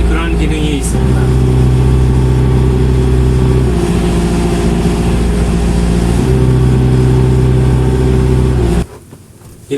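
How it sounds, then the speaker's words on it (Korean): RX tractor engine running steadily above 1800 RPM, its tone stepping down in pitch as the steering is worked, then rising back before cutting off near the end. "엔진 RPM이 다운되는 그런 기능이 있습니다"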